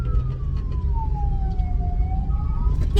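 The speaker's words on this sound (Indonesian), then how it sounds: "kita mendengarkan ada suara sirine kendaraan ambulans" An ambulance siren passes on a road in the cool town of Malino, a long, gliding wail that falls slowly and then rises again, heard steadily over the constant rumble of nearby traffic.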